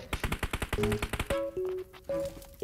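Gunfire from PUBG Mobile, a rapid automatic burst of about a dozen sharp shots followed by a few tonal game beeps and chimes, close and clean with no talking.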